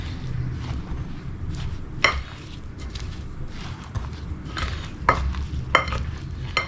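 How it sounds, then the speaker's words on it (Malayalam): Mango pickle pieces in oil with spice powders being mixed by hand in a vessel, giving a wet, continuous churning with several louder scraping knocks, close by and moderately loud. "നന്നായിട്ട് മിക്സ് ചെയ്തെടുക്കാം."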